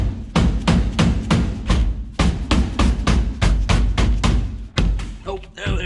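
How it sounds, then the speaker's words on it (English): A small dead blow hammer strikes a steering wheel on a $650 Mustang race car to knock it off the column, about a dozen close, heavy thuds in a fairly steady rhythm, with a brief pause before the last few blows. "Just need to hit the wheel just a little bit, a few times on every corner with a little dead blow."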